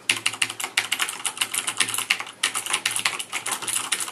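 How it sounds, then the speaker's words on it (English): Fast, bright clicking keystrokes on a Razer Black Widow mechanical keyboard with loud blue switches, a quick irregular rhythm with a brief pause midway, close and clear with no talking. "So let's start with the Black Widow. We have blue switches, which are the loudest switch."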